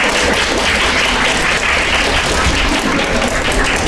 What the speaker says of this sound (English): Do you know why we are clapping for them?